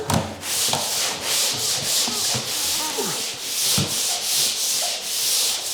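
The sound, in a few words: sanding drywall patches with worn sandpaper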